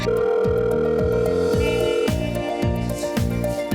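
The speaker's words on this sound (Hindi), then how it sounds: "सुनिए, सुलेमान का फोन है।" A telephone rings repeatedly in a Hindi crime drama scene, loud rhythmic electronic ring bursts in quick succession over a sustained tone, with no talking.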